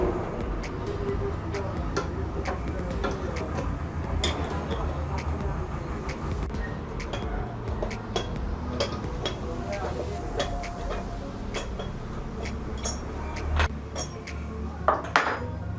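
Three nuts are unscrewed from the magnet of a faulty speaker being repaired, giving scattered light metallic clicks and ticks close by, with occasional sharper taps.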